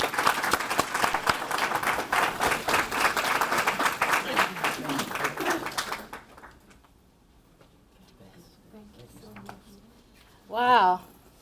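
A university audience claps for the mayor of Richmond, dense applause fading after about six seconds into quiet room noise, then a short burst of speech.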